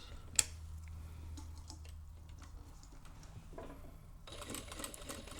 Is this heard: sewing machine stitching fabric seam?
yes